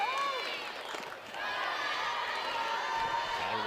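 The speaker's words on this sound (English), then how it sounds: "Jack Turner Stadium crowd making noise here with 2 away" The crowd at Jack Turner Stadium makes noise during an NCAA softball game between Mississippi State and Georgia, a steady, loud roar of shouting and cheering from many voices with whistles cutting through.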